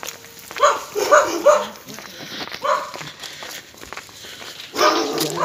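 A dog barks a few times in short bursts, fairly close, with pauses between and some background shuffling.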